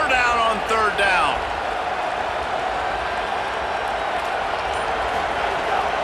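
Stadium crowd noise in the EA Sports College Football 27 video game, a dense continuous roar swelling at a third-down play, with a commentator's voice over it at the start.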